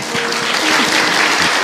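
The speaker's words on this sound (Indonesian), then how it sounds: "tepuk tangan dong untuk Ahilman" An audience at an Islamic religious lecture breaks into loud, steady applause, a close and continuous wash of clapping with no voices.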